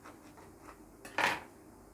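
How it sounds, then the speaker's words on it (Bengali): A knife saws through soft bread rolls for hot dogs in a kitchen: faint rubbing strokes, then one louder, brief crunching cut near the end, with no talking. "সমস্ত ব্রেডগুলো আগে আমি এরকমভাবে কেটে"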